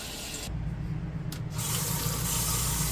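RV faucet running at full pressure, a steady loud hiss and splash of water streaming into a sink, continuous and close for the whole stretch.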